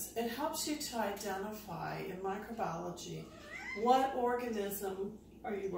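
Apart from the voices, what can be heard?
cat meowing in the background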